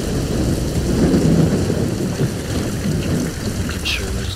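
Heavy rain with low rumbling thunder in The Bureau: XCOM Declassified, a dense, steady roar of downpour filling the scene without pause, rolling thunder beneath it.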